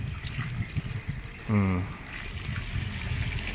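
Water runs in a light, steady stream from a tap in an aquaponics system, with a brief voice-like hum partway through.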